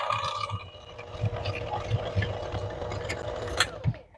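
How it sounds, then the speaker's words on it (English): Cake batter for a mini pineapple upside-down cake, made with medium brown sugar, being whisked by hand in a bowl, giving a steady, rhythmic scraping and tapping that continues throughout at moderate, close volume. "So I'm going to whisk this up now."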